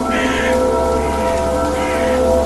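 Steady rain pouring down in a forest, a dense continuous hiss of falling water with a low rumble beneath, even and fairly loud throughout with no voices.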